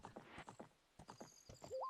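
Epona, the horse in The Legend of Zelda: Ocarina of Time on N64, thuds down from a big jump, a quick run of hoof clip-clops ending in a short whinny, all faint.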